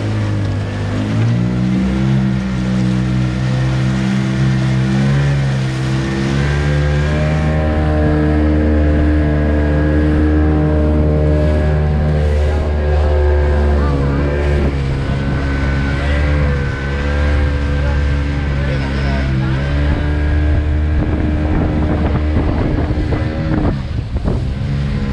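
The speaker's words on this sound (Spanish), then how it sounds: "El motor sufre." A boat motor strains at high speed on the open sea, a loud sustained droning roar with shifting pitch, buffeted by wind and rushing water, running continuously without pause.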